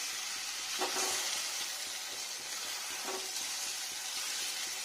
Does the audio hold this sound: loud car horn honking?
no